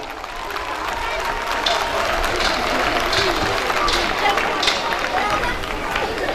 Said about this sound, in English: Please give the little ones of SGS a huge round of applause.